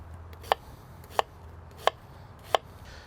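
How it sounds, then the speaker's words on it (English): Four evenly spaced knife chops on a cutting board as onions are cut for smash burgers, sharp and close with quiet pauses between each stroke. "Let's start with chopping some onions, get those going."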